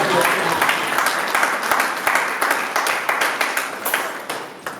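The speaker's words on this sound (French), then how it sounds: "Est-ce que vous pouvez applaudir très fort pour nos frères?" A church crowd claps steadily throughout, dense overlapping hand claps with sharper individual slaps standing out, fairly loud and close.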